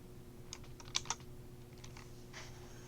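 Keystrokes on a computer keyboard while working at a Linux command line, a quiet scatter of light clicks with a couple of sharper taps near the start, close to the mic over a low steady hum, with no talking.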